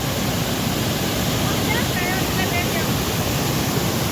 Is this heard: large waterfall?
yes